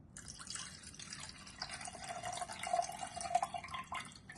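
Water trickles and drips steadily into a vessel while soaked ingredients are readied for grinding into a paste in a Tamil home kitchen, a faint, close, continuous pour with small splashes and no talk.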